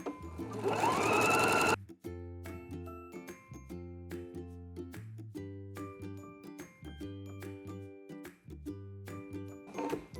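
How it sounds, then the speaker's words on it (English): A sewing machine stitches fabric along a dress armhole with the needle-down setting, running in steady mechanical bursts with brief stops and restarts, close and clear; a loud rushing noise opens the sequence before the machine starts. "I'm also sewing right in the middle of my serge."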